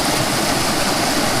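Floodwater from a flash flood rushes past a hydroelectric intake, well over 100 litres a second, as a loud, steady broadband roar close to the mic with no break and no voices.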